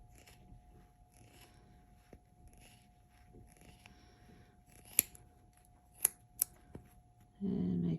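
Scissors snip through crochet yarn loops to form a pom pom, giving several sharp, quiet clicks near the close, with soft handling rustle between them and a short low hum at the end.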